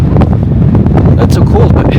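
Strong, roaring wind buffets the microphone near Everest Base Camp in Tibet, a constant rumbling gusty blast filling the whole stretch.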